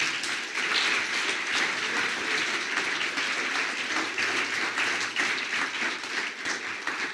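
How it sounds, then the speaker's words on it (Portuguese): Sustained applause from a church congregation, steady and dense throughout, with no speech over it. "Você pode aplaudir a Jesus por isso?"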